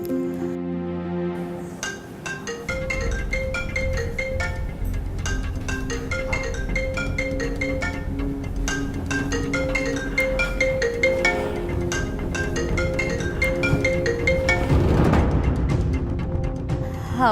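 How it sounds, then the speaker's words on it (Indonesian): A phone call rings out as a repeating melodic ringtone, a chiming pattern of short tones that loops steadily for many seconds without any voices. "Aku coba telepon Mas Aldi."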